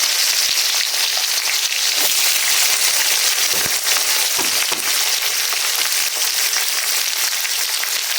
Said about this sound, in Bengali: এখন পেঁয়াজ কাঁচামরিচটা দিয়ে দিব আমি।